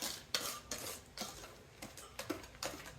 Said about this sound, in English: Now we just mix it.